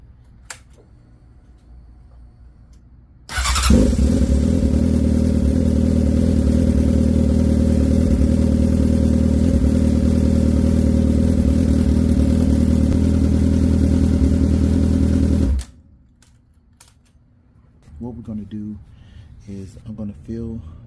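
A Honda CBR1000RR sport bike engine cranks and starts abruptly, then runs at a loud, steady idle for about twelve seconds before cutting off, followed by some clatter.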